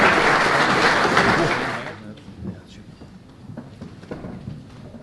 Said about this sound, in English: round of applause, please, for Ryan